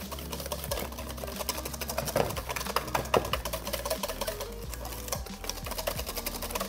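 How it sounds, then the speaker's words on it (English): A whisk beats a thick, goopy semifreddo base of no-churn ice cream in a bowl, making rapid, steady rattling clicks against the bowl, close and continuous without talking. "all you need to do is just whisk it until it's smooth again"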